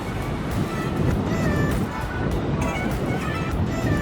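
Ocean waves rolling onto Bondi Beach, heard from a high clifftop viewpoint overlooking the whole shoreline: a steady, broad wash of surf with gentle swells in loudness, continuous and fairly distant, with no voices.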